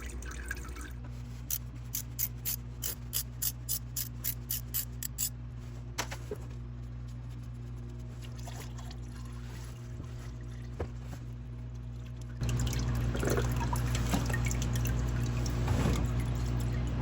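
Engine oil draining from a 2024 BMW X7 M60i with the S68 engine, starting as quick rhythmic drips, then a faint steady trickle that later swells into a louder continuous pour, with no talking.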